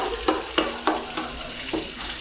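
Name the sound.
onions added to frying pan for Ambur biryani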